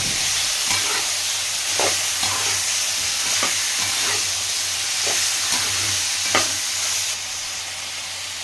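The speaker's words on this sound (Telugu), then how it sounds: "గుమ్మడికాయ అయితే వేసుకుందాం కలిపెట్టుకుందాం" Pumpkin and cooked onions stirred in a hot pan for a Karnataka-style pumpkin palya, a steady sizzle broken by repeated scraping strokes of a spoon at a slow, even rhythm, close and fairly loud with no talking.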